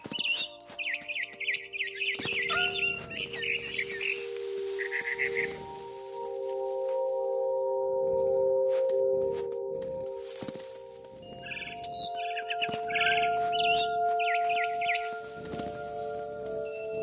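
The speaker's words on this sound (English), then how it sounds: "Then I heard chirping outside my window. It was a barn swallow going back to her nest." A barn swallow chirps in the game What Remains of Edith Finch, with bursts of quick, bright tweets near the start and again later, over steady sustained tones.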